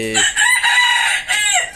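A rooster on a poultry farm crows once, close and loud, its drawn-out call filling the short moment with a few clucks at the start.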